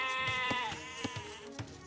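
Sheep bleat in an Age of Empires match, a few short calls over a busy game soundtrack of music and ambient effects.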